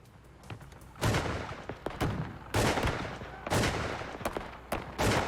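Gunfire crackles in a kidnapping reenactment, with sharp shots in irregular bursts and volleys, some rapid and overlapping, echoing moderately close.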